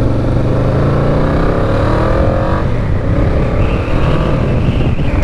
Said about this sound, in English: This, of course, is Moto RO USA's bike, the VMAX. Yeah, that sounds pretty badass.